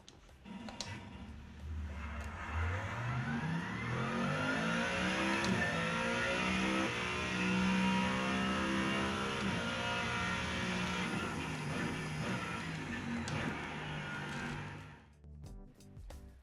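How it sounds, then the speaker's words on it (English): Mustang GT3 racing car in a sim racing game at Long Beach, engine revving up through the gears with rising and falling pitch sweeps, loud and steady for most of the lap before easing off near the end. "I'm going to take the Mustang GT3 out at Long Beach to do some test laps."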